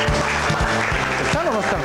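A television studio audience in Lima applauds to welcome a band, with the clapping heard under a strong musical backing and voices.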